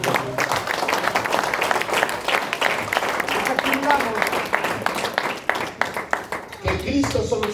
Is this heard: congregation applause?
yes